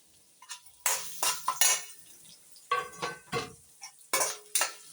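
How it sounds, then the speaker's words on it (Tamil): Sliced onions frying in oil with fennel seeds, stirred in a pan, with a series of separate clinks and scrapes of a utensil against the pan over a faint sizzle. "இந்த வெங்காயத்தையும் போட்டுக்கோங்க."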